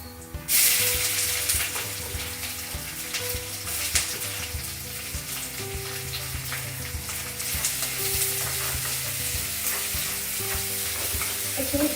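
Onions hit hot oil for pulao and fry with a loud, sustained sizzle and crackle, stirred now and then, while background music plays throughout.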